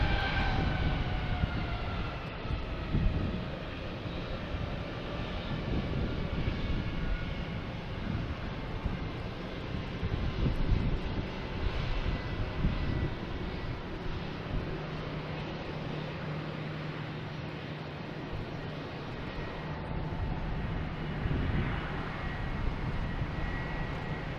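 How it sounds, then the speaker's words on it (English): A Porter Airlines plane takes off from runway 4 Left at Logan Airport, heard as a broad, steady engine roar with whining tones, held at moderate distance for the whole span without talk. "Here's the porter taking off on 4 left."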